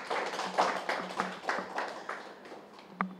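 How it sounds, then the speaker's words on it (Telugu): At a 150th-episode celebration of a Telugu talk show, an audience claps for anchor Sneha with a scattered run of soft, fairly quick claps. "దానిలో ఒకసారి స్నేహ గట్టిగా క్లాప్స్ చేద్దాం"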